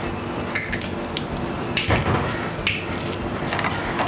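Eggs are beaten into cupcake batter in a bowl, a steady scraping and clattering of a spoon or whisk against the bowl with a few sharper knocks, close and continuous.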